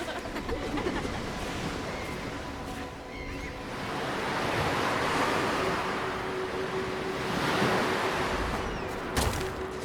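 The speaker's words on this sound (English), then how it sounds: "I love the sound of waves." Ocean waves breaking on a shore, a continuous wash of surf with two broad swells as the waves roll in, steady and fairly close, with a little wind noise.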